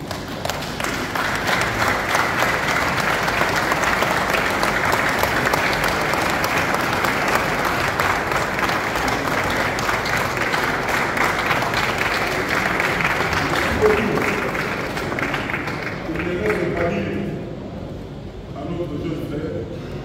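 Sustained applause from a large standing crowd after a 40th-day memorial mass, steady and loud for most of the stretch, then thinning out toward the end as some voices emerge.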